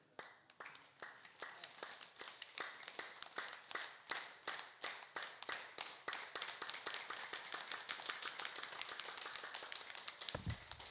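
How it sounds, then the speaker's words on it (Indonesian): An audience at a seminar in Pematang Siantar claps their hands in a brisk, steady rhythm, many hands striking together close by for about ten seconds before a final thump. "Tepuk tangan yang benar"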